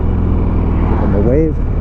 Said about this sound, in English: There's another motorcycle.